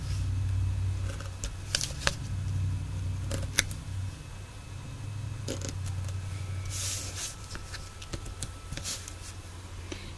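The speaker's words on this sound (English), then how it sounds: "cut out your little boxes on all 4 corners" Scissors cutting the corners off sticky-backed paper for a bifold card: a few quick close snips and crisp rustles over a low background hum.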